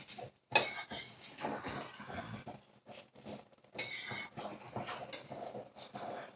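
Egg biryani is tossed and mixed in a pot, giving faint, irregular scraping and soft clinks of a spoon against the metal, quiet and close with short pauses between strokes.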